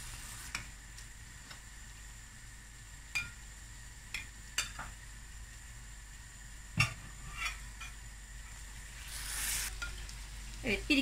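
Fried karakuş dessert pieces dropped one by one into syrup, with faint bubbling and sharp clinks and taps of a spoon against the pot at irregular intervals.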